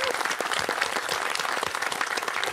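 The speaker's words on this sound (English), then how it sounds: "all of us giving a huge round of applause to the entire team here who made all of this happen" A crowd at a Founder's Day gathering gives sustained, dense applause, many hands clapping steadily and evenly from start to finish.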